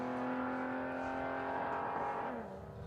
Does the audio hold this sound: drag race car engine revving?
yes